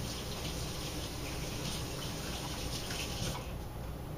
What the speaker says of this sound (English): I'm going to just rinse my hands very quickly here.